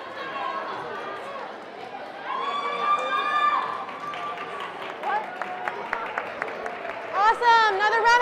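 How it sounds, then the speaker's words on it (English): Audience applause at a regional middle school awards ceremony: scattered claps rising from a crowd, mixed with cheers, whistles and overlapping chatter, fairly close and moderately loud. "Another round of applause."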